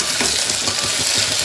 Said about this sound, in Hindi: आलू हो गया थोड़ा सा फ्राई फ्राई